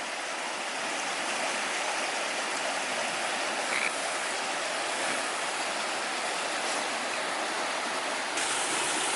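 Water rushes in a steady, loud, broadband roar as it pours out of the abandoned Jeddo mine tunnel, a constant torrent with no voices over it.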